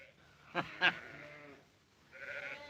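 Two short sheep bleats close together, followed by a longer, wavering bleat, heard against a quiet farm background.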